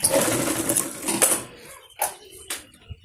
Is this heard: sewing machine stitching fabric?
yes